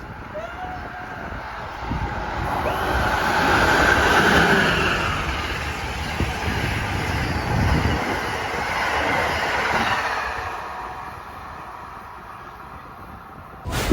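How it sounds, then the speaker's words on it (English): A train rumbles past nearby, its steady roar swelling and fading with a squealing, whooshing edge, no voices heard. "it sounds like someone saying, "Woo!" while the train goes by"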